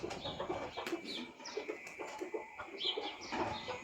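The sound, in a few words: roosters and chickens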